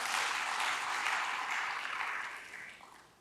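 A church congregation applauds together, a broad wash of clapping that holds steady and then gradually tapers off toward the end, with no voices over it.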